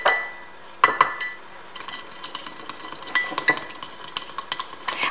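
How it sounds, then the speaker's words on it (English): A spoon stirs a vitamin C serum mixture in a small glass container to dissolve the powder, giving close, bright clinks and scrapes in quick irregular bursts with no one speaking. "I like to give this a nice stir just to make the powder dissolve a little bit better."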